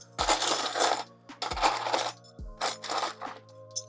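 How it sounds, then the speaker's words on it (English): Metal zipper pulls jingle and clink as they are picked up and handled, in several short bright bursts of small metallic clatter, close and fairly quiet, with no talking. "I'm gonna go ahead and bring these zipper pulls over here"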